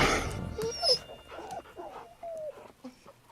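Dogs in a film scene give short whimpers and yelps with brief bark-like bursts, fairly faint and intermittent over a quiet background.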